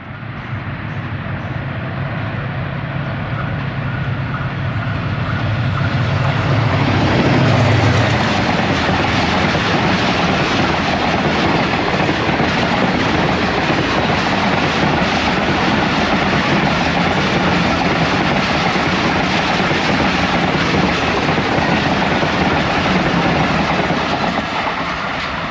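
Blue Tiger diesel locomotive hauling a train through a station, a loud continuous rolling roar with engine rumble building after a few seconds and staying steady and close throughout.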